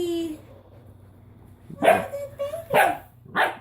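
An eight-week-old Berni-Berger puppy lets out three sharp, high little barks spaced about a second apart, close and fairly loud in a quiet room.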